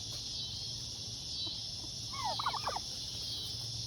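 Turkey toms burst into a short, loud, rapid gobble partway through, set against a steady high insect-like hiss and low hum in an outdoor yard.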